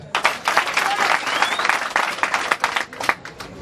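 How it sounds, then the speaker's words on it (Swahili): An audience at a Tanzanian herders' graduation gathering breaks into loud, sustained applause with scattered claps standing out. Voices murmur faintly underneath the clapping. "Piga makofi."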